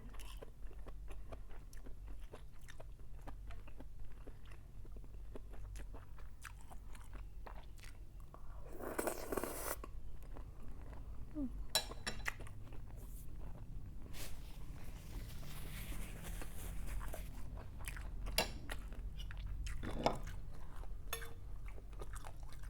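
Someone chews crunchy dried squid tentacles close to the mic, a long run of quick crisp crunches and bites with a few louder snaps, set over a quiet low background.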